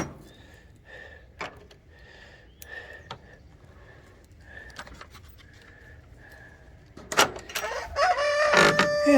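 Chickens in a backyard coop cluck and crow in repeated short calls, moderately close and fairly clear, with louder, busier cackling and rustling building toward the end.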